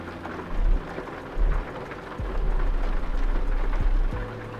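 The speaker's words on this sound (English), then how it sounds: "The rain is loud, is it?" Rain in the video game Euro Truck Simulator 2 falls as a steady, full hiss, broken by deep rumbling swells, with no voices.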